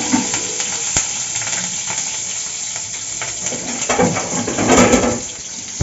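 Ginger and four green chilies fry in oil for chana masala, a close, steady sizzle with occasional pops and a louder crackling swell near the end.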